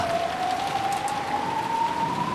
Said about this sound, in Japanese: 空を飛べるのはすごいけど、すごい風と雨だ。